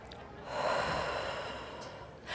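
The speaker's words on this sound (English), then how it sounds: "And breathe." A single soft, audible breath, drawn in and slowly released, sits close and quiet during a guided calming pause, with no talking over it.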